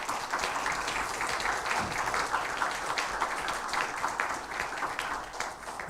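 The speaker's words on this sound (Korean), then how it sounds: "우리 두 분에게 감사의 박수 하겠습니다" Listeners at a university chapel service give a round of thankful applause, steady clapping from many hands with individual claps standing out, moderately quiet and unbroken.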